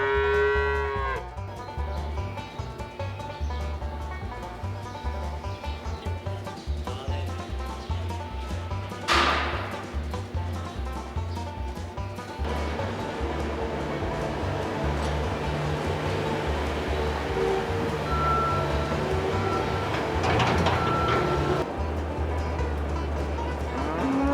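Dairy cows on a farm moo repeatedly while being fed hay, with long low calls rising above steady barn noise, clattering and rustling; a few faint voices are mixed in.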